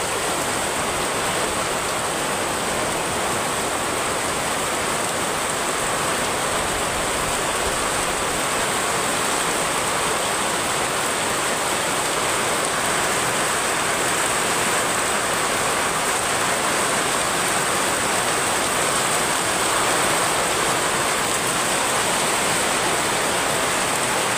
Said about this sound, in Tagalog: Sana naman yung ulan wag naman sobra